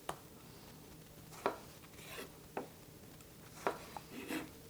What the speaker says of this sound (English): Cut the same way these tomatoes.